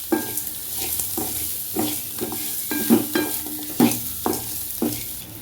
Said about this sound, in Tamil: உப்பு கல்லுப்பு சிம்மிலே வச்சு கொஞ்சம் நல்லா வதக்கணும்